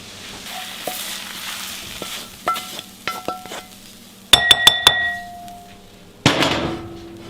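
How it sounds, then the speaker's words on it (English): Ground beef going into a hot pan on a stovetop set near high, with a steady sizzle broken by sharp metallic clinks and taps of a utensil against the pan, close up and with no talk. "now we're going to start browning our beef"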